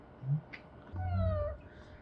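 A single close, drawn-out cat meow, preceded by a short low sound, heard alone in a quiet room while the cat's paws are massaged.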